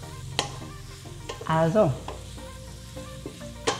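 Carrots fry in a pan for a vegetarian quinoa and vegetable dish, a steady soft sizzle under occasional stirring clatter. A voice briefly speaks and a short whining tone rises over the frying.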